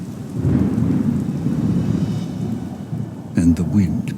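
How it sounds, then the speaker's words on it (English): An electrical storm at night: deep rolling thunder rumbles over steady rain, with a brief burst of voice-like sound near the end. "The thunder rolled."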